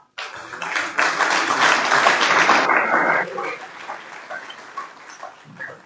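Applause from an audience at a 2022 school sports awards dinner, a dense, loud burst of clapping that swells for about three seconds, then thins into scattered, fading claps.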